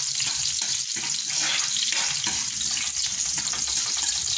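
Garlic frying in a pan for a home-cooked dinner, a steady broadband sizzle with occasional stirring scrapes, close and continuous with no talking.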